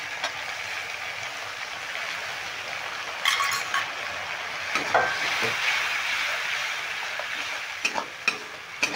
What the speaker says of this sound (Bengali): এবার মশলাটা আমি 2 মিনিট ধরে একটু মশলাটা কষিয়ে ভেজে নেব।